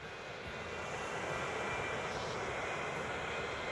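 Airliners in the video game Transport Fever 2 give off a constant, close engine roar, a dense unbroken whoosh that swells slightly midway.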